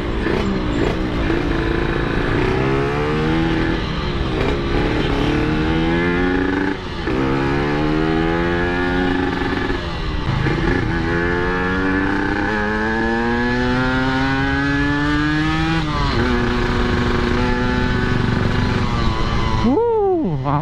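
A Yamaha RX King two-stroke motorcycle revs hard at high RPM, loud and close, its throttle blipped repeatedly in rising and falling sweeps with no talking.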